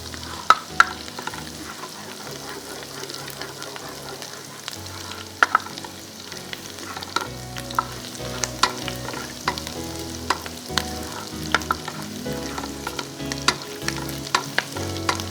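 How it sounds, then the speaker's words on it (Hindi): Garlic frying in a pan crackles with a steady, close sizzle, dotted with sharp spatters and soft scraping from stirring throughout. "देखें खूबसूरत सी ये फ्राई हो गई है। बस इससे ज़्यादा करूँगी तो हमारी गार्लिक का कलर ख़राब हो जाएगा"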